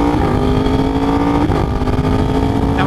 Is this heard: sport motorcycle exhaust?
yes